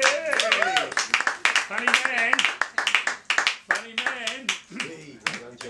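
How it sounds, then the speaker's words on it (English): Participants at a comedy workshop clap for a comedian in sharp, uneven bursts, close by and mixed with lively chatter and cheering throughout. "Big round of applause for John."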